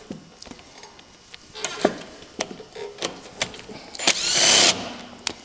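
Power tool driving bolts on the brake of a Cub tractor: short bursts of whirring and clicking separated by pauses, with one longer, louder burst near the end, close and fairly quiet.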